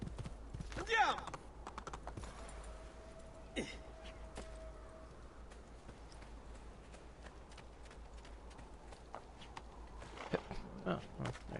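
Horse riding in the video game Assassin's Creed 2: soft clip-clop hoofbeats with occasional faint whinnies under quiet game ambience, with a voice talking at points.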